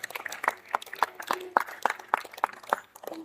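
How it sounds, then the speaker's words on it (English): Scattered applause from an audience at a manufacturing trade show ceremony, a steady run of distinct claps at moderate distance with no talk over it. "Let's give a round of applause for the release of the exhibitors."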